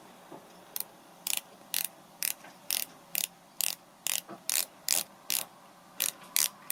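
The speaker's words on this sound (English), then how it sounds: "It's a 60-click bezel on these watches, by the way, and this is what gives the bezel its click." Rotating bezel of a MkII Kingston limited-edition watch with 60-click ratchet action, turned in a quick, slightly uneven series of about a dozen crisp, close, sharp metallic clicks against quiet background.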